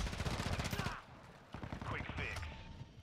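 Sniper rifle fire in the game Modern Warfare 2, heard as a dense burst of rapid gunfire sounds followed by further shots and in-game noise after a short dip, loud and close.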